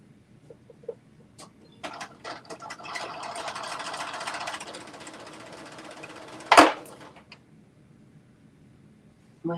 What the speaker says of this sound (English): I am going to put this little stitch in right here